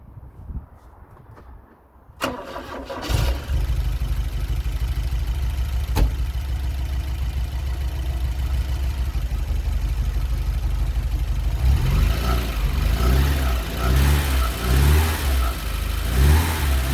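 Porsche 924 engine after a camshaft front oil seal and timing belt job, cranking briefly and catching, then idling steadily before several rhythmic revs toward the end, loud and close.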